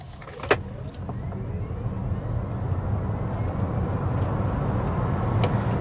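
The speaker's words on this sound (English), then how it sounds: "let's go ahead and start with a hard acceleration" A 2026 Toyota C-HR XSE SUV accelerating hard gives a brief click, then a rising engine and drivetrain whine that grows steadily louder over road and wind noise inside the cabin.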